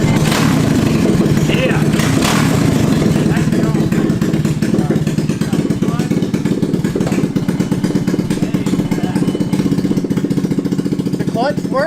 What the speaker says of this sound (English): Cranking it over.